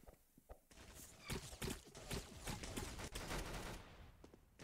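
A plasma launcher fires in Roblox Arsenal, delivering rapid bursts of sharp energetic shots layered with other weapon fire and footsteps in busy, fairly quiet gameplay audio.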